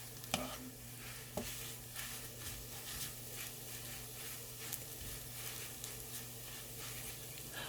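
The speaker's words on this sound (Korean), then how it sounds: "예열된 팬에 식용유 3스푼을 넣고 채 썰어 놓은 어묵을 넣어서 어묵이 노릇해질 때까지 볶아줍니다." Shredded Korean fish cake stir-fries in about three spoons of oil in a preheated pan, making a faint, steady sizzle with occasional scrapes of a spatula and no talking.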